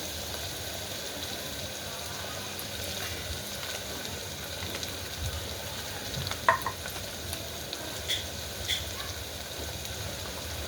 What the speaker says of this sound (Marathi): टमॅटो टाकूया टोमॅटो आपला पूर्ण फ्राय करून घेऊया